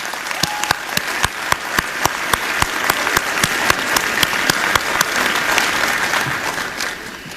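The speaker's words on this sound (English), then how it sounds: "We should take a moment to applaud the outstanding students and our illustrious faculty who lead them." An audience at a Howard University speech claps, the applause loud and sustained with distinct sharp hand claps rising over a dense continuous wash of clapping.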